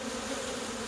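Honey bees at a busy Portland hive with drones flying and pollen coming in, making a dense, steady buzz that fills the whole second without a break.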